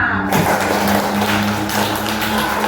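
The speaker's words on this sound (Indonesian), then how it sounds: "kasih aplaus dulu untuk Sena" A class applauds a student during a school lesson: a dense, steady wash of clapping lasting a few seconds.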